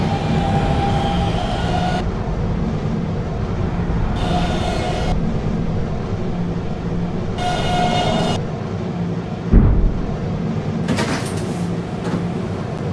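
An R152 subway train in the Roblox game PTA Subway runs loudly, a constant rumble of wheels on track broken by several bright hissing bursts and a brief clunk.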